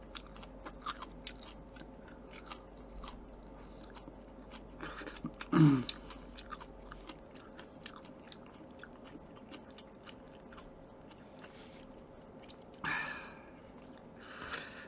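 Quiet, close chewing and crunching while eating spicy Korean beef soup (yukgaejang) with meat wrapped in lettuce, sparse wet bites scattered throughout, with a sharp gasp or sniff partway through and a brief breathy sound near the end.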